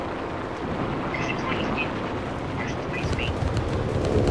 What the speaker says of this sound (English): AM1 is now leaving the scene, dropping his bomb as well